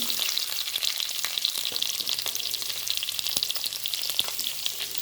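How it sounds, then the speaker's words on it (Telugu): Onions fry in hot ghee for mushroom biryani, a dense, even crackling sizzle held at constant loudness throughout, with small pops and occasional spoon clicks. "నెయ్యి కాగిన తర్వాత ఆనియన్స్ వేసుకుందామండి"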